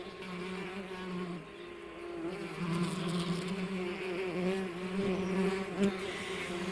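Tree bumblebees buzzing around their nest, a steady close droning hum with overlapping wingbeat tones that rise and fall slightly throughout.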